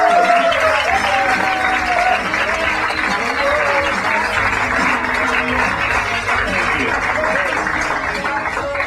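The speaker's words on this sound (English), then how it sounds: "Thank you for applauding." A stand-up comedy audience greets Louis C.K. with broad, continuous applause and some cheering. It holds steady and loud through the whole stretch and fills the room evenly.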